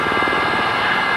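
Helicopter engine and rotor during a military flight training lesson, a steady loud drone with rhythmic low blade chop held close throughout, no talk heard.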